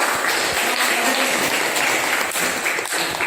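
A class of students gives a short burst of steady applause in a classroom, the clapping dense and continuous throughout.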